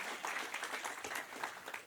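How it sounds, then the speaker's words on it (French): A church congregation applauds a young boy named Kelvin during a Sunday service, sustained dense clapping filling the room steadily throughout. "Allez, on applaudit notre petit Kelvin"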